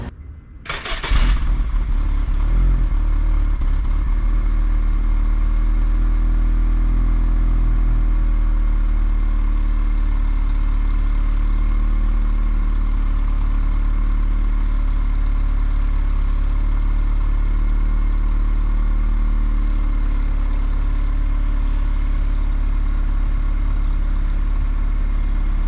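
A Honda Civic with an OEM Si exhaust cranks over briefly and settles into a steady, loud idle, a low, even rumble that holds unchanged to the end.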